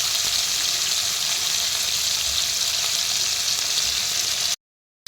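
Cashews and raisins frying in a pan for a vegetarian potato curry, a steady close bright sizzle that holds evenly without a break before falling to silence near the end.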